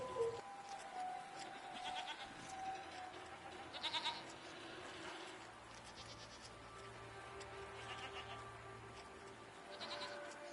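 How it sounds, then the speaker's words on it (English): Goats bleat intermittently over a quiet background hum, several short calls spaced across the clip, some nearer and louder than others. "Wow. Goats."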